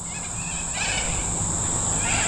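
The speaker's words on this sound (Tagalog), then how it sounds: "puro huni ng ibon sa mga kuliglig yung maririnig mo kapag dito ka naglalakad" A steady high cricket trill runs throughout, joined by scattered bird calls in an open outdoor dusk setting in Australia.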